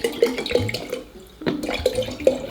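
Water is poured to fill a container about halfway, giving close, uneven gurgling splashes and bubbly glugs in short bursts, with a brief lull in the middle.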